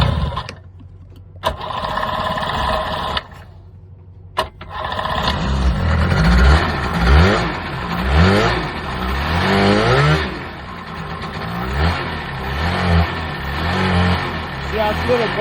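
A small two-stroke engine running on old premixed gas sputters after brief pauses, then revs up and down with a buzzy, uneven, slightly boggy tone, close by.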